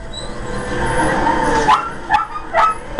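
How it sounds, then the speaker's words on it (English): Indoor dogs in a noisy house yip, whimper and bark in several short bursts, close and fairly loud, over a background of game sound. "if you hear dogs in the background, I apologize"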